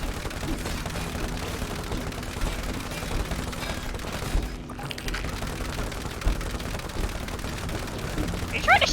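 Rapid gunfire in the co-op video game It Takes Two, a dense continuous crackle of shots with a brief lull near the middle, mixed with game music and effects throughout.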